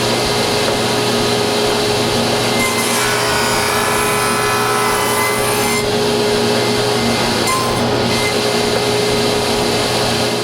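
A saw blade takes shallow passes through wood for a dresser, with a loud, continuous whirring roar and a dust collector hose running nearby, sustained for the whole stretch.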